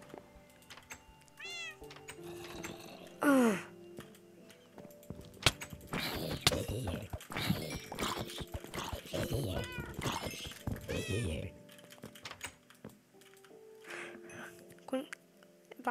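Minecraft cat meowing in the game: several short rising and falling meows scattered through the passage, some repeated close together, with a person talking over parts of it.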